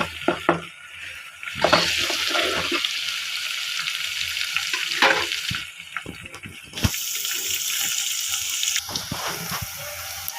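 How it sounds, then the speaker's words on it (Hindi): Garlic and green chili paste frying in a pan for rajma masala, a steady broadband sizzle with stirring and scraping, fairly loud and continuous, with no talking. "हम लहसुन और हरी मिर्च का पेस्ट ऐड कर रहे हैं। ये भी ब्राउन हो जाए फिर टमाटर ऐड कर देंगे।"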